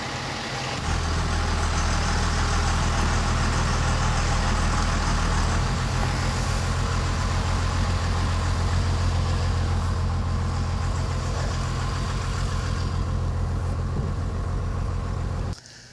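A 600-plus horsepower 12-valve Cummins diesel truck engine runs steadily and loudly after a dyno session, a constant low rumble with no break until it cuts off abruptly at the end.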